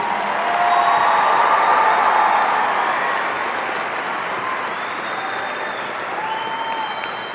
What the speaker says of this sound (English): please give a big round of applause to the Mighty Martin High School class of 2018